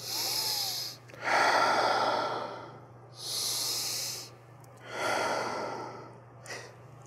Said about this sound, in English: We're gonna stay here for three breaths.